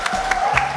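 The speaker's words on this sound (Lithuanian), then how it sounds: "Plojimai!" A studio audience at a television cooking show breaks into a brief burst of applause and cheering, a loud, even wash of clapping lasting under a second.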